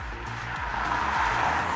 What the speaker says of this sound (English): Audi's 2-litre turbocharged petrol engine is very likable because it gives the impression of on-demand power.